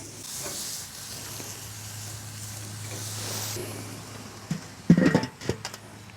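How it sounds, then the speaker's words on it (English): Burgers sizzle on a Weber kettle grill with a soft, steady hiss, faint and continuous, before a few louder clanks and scrapes near the end. "Love the sizzle."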